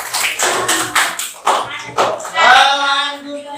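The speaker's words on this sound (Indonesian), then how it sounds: "Nah, tepuk tangan." A classroom group claps hands in a quick, rhythmic run of sharp claps up close, followed by a short vocal sound near the end.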